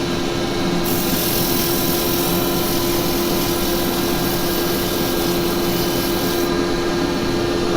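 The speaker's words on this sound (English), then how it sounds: "Now I want to just do a very little sand on that." Wood being sanded on a spinning woodturning lathe, a steady loud motor hum and whirring drone with a constant rubbing hiss, unbroken throughout.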